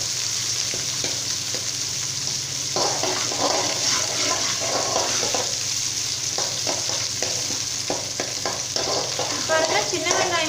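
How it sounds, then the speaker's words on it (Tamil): Small shallots sauté with mustard seeds in a hot pan, giving a steady close sizzle and frying hiss, with occasional stirring scrapes and crackles. "சின்ன வெங்காயம் வந்து நல்லா வந்து லைட் ப்ரௌனிஷ் கலரில் வதங்கணும்"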